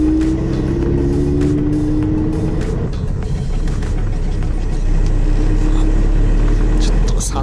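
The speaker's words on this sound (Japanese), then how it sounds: "エンジン音とかね、あと86の場合ってサウンドクリエイターってやつがついてるんですけど" A Toyota 86 engine drones steadily inside the car, its pitch climbing under acceleration on an uphill mountain road, with a low rumble throughout and faint speech beneath.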